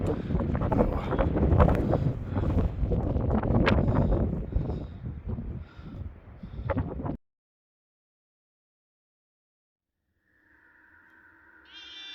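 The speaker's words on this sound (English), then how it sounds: "That was windy." Heavy wind at high elevation in the abandoned Trefor Quarry roars and buffets the microphone in rough gusts for several seconds, then stops dead into silence before a faint tone appears.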